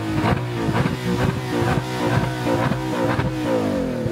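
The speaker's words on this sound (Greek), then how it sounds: "Μπορείς να μου κάνεις ένα μαρσάρισμα, σε παρακαλώ." An Audi R8 engine revs through its exhaust in repeated rising and falling bursts, a loud throaty mid-range roar pulsing close by with no talking.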